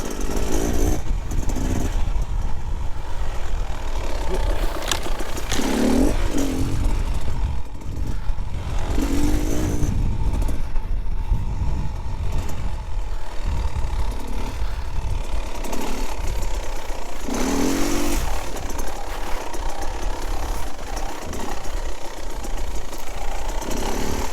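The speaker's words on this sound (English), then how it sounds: "a bit higher in the revs in second gear now, but again, it's just ripping." A 2024 Beta Xtrainer 300 dirt bike engine runs continuously off-road with rising and falling revs and occasional clatter, loud and close throughout with no talk.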